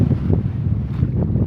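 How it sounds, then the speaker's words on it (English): Steady, loud wind buffets the microphone at a Craters of the Moon volcanic-field overlook in Idaho, a continuous low roar with no speech. "Oh, it's windy."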